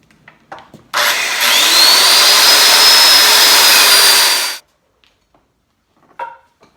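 A power saw cuts through a board while building a canoe and kayak storage rack, a loud steady whine lasting about four seconds with a rising tonal pitch, starting and stopping abruptly, alone in a quiet workshop.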